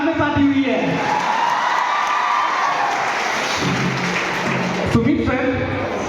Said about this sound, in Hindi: एक बार सुमित सर के लिए जोरदार तालियां